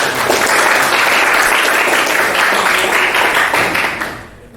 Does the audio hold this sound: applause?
yes